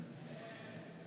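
A voice imitates a sheep bleating during a church homily, giving one short, faint, wavering "meh" sound.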